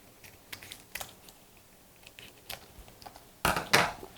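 Kitchen scissors snip dried chili peppers in a cooking setting, making a series of sparse, crisp, quiet cuts that end with a louder cluster of crunchy snips.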